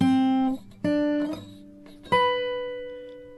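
Acoustic guitar picking the high melody line of a song, a few clear single notes ringing out one after another with gentle decay, close and alone.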